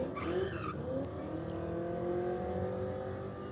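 Ford Falcon drag car launching off the line at a drag strip, a faint distant engine rising in pitch through repeated revs with a brief tyre squeal at the start.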